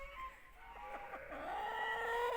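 A sick chick clucks and peeps in short, thin calls close by, rising into a steadier chirping toward the end over faint background noise.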